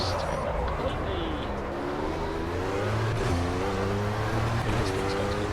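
A race car engine revs and accelerates in Project Cars, with climbing gear-by-gear pitch sweeps repeating over steady engine drone, loud and continuous with no talking.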